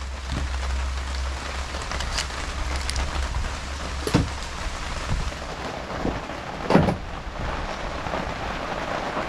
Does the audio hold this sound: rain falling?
yes